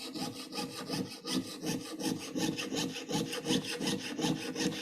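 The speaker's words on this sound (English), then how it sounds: "So the saw frame, straight up and down." A hand saw frame cutting wood with a fresh blade, worked straight up and down in steady rhythmic strokes, each rasping pass close and clear with no talk over it.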